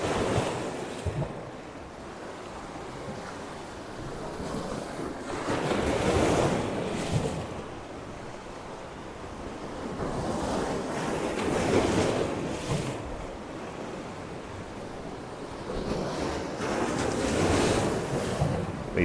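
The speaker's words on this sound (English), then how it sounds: "These waves are getting bigger now." Ocean waves break on the shore as the tide comes in, swelling in three broad surges of rushing surf with wind buffeting the microphone throughout, loud and close, no voices.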